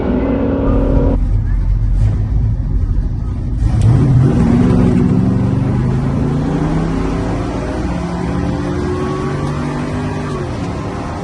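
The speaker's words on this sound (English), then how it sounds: "I think that Chevelle's driving away." An old Chevrolet Chevelle races in a drag shootout at the King of the Open Road 2025 event, its engine note climbing in rising sweeps as it pulls away into the distance over steady broadband outdoor noise.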